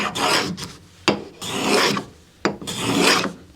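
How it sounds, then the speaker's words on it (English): Lie-Nielsen block plane shaving hardwood end grain in three rasping strokes, each starting with a sharp bite and then a rough scraping drag, close and clear with no voices. "You can hear the difference in the sound because it is end grain."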